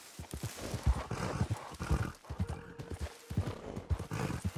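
Horse hooves clip-clop at a steady trot across ground in Red Dead Redemption 2, close and clear, with a short whinny in the mix and no talking.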